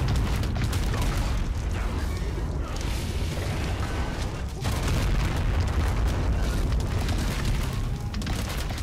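Missile explosions boom repeatedly in the Ark Primal Fear video game, a dense, loud barrage of deep blasts and rumbling impacts continuing throughout.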